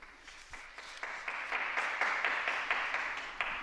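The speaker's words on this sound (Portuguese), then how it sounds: "O aplauso dos fiéis" Applause from the faithful for a newly beatified Blessed, a steady wash of many hands clapping that swells slightly and continues evenly throughout.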